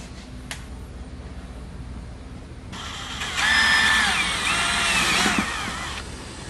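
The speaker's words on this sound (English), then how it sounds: "we'll drill them out using a 5/16 drill bit" A power drill with a 5/16 bit bores holes for fender flares on a Polaris Ranger 1500 XD, a brief whirring burst that rises after a quiet stretch, whines for a few seconds, then stops.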